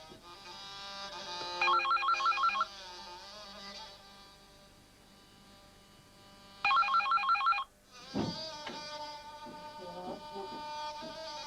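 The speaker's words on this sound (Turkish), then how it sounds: "Telefon geldi." A telephone rings in two short electronic bursts several seconds apart, fairly close, followed by softer tonal sounds and background noise.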